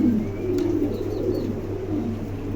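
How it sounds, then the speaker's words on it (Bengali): A pair of running pigeons coos softly and low, close by, over a constant background hum. "এই জোড়া রানিং কবুতর"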